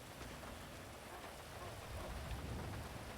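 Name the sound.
rain in GTA 5 roleplay video game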